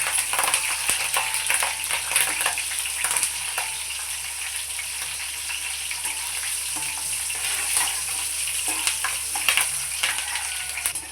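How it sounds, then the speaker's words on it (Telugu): Green chillies frying in hot oil for Telugu ginger rasam (allam charu), giving a steady, close, continuous sizzle and crackle with no talking throughout. "ఇవి కూడా బాగా వేగిపోయిన తర్వాత పచ్చిమిరపకాయలు వేసుకోవాలండి."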